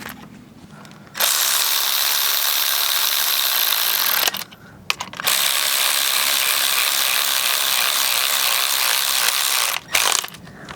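Ratchet snugging up the front lower control arm bolts on a 2012–2015 VW Passat TDI B7, loud rapid clicking in two long bursts with short pauses between, close up and alone.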